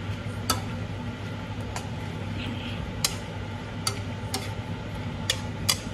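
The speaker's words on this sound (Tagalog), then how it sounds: "Saka ko ihulog yung pansit." Pansit noodles drop into a hot pan and get stirred, a steady low sizzle under sharp intermittent clicks and scrapes of the utensil against the pan.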